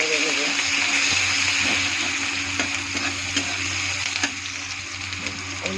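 Chopped onion and a pinch of asafoetida fry in hot oil in a pan, giving a steady, close sizzle broken by scraping stirs of a spoon throughout.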